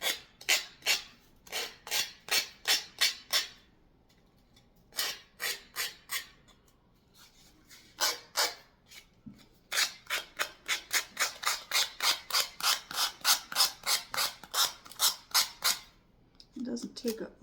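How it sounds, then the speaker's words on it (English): A file rasps along the edge of a gnome banner piece in quick runs of short rhythmic back-and-forth strokes, close and crisp, with brief pauses between bursts and no talking. "Doesn't take a lot of filing to get this off."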